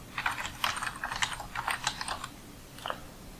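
Rapid clicking keystrokes on a computer keyboard while a username is typed into a login form, a quick burst of taps followed by a few slower, isolated presses, close and clear with no talking.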